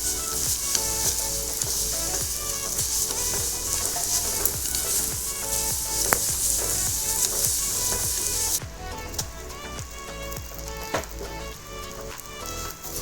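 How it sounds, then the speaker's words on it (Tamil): Semolina and grated coconut stirred in a pan for ukkarai sweet, a dense continuous sizzle with regular scraping strokes of the spatula, close and loud, with no talking. "ரவையோட தேங்காய் பூவும் போட்டு நல்லா சுருள கிளறிக்குவோம்."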